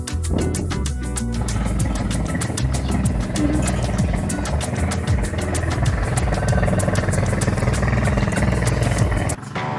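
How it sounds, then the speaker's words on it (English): Small camera drone flying at an ATV park in Bohol, Philippines, its rotors giving a steady, close buzzing whine that holds for several seconds before cutting out near the end. "Chris has his drone."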